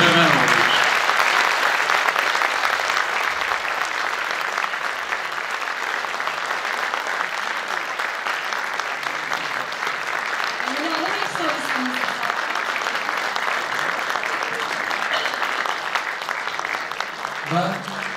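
Sustained audience applause at a Turkish arts-patron tribute event, dense and steady for the whole stretch, with a voice speaking faintly over the clapping near the end.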